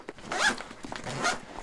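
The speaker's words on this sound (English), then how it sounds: "zip this bag up" A zipper pulled closed on a cooler backpack in two quick strokes, close and crisp, with no talking.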